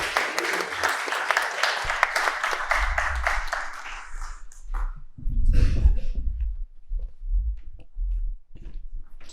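Audience applause at a debate on whether Christianity is rational, greeting a speaker as he walks out to the stage; dense, steady clapping fills the first few seconds, then fades into low thumps and scattered room noise.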